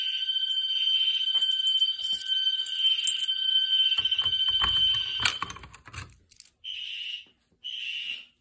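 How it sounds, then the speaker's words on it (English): A scratchy, buzzing fire alarm horn on an Exceeder sounds continuously and loud for several seconds, then clicks and rattles as it stops, followed by two more short horn blasts separated by silence. "There's my horn on my exceeder. It does sound very scratchy."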